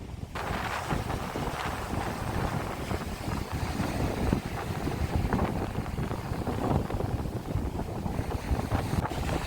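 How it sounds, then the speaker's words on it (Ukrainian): Sea waves and strong wind roar continuously on an Odesa beach in December, with heavy wind buffeting the microphone and surf rushing close by throughout. "на море, на хвилі"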